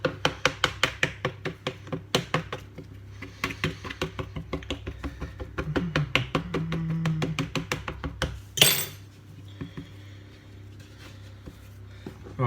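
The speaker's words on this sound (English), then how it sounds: "now I'm just going to prick the base with a fork" A fork pricks a raw scone-dough pizza base repeatedly, giving a fast, steady run of close, light taps, with a brief louder clatter near the end and quieter scraping afterward.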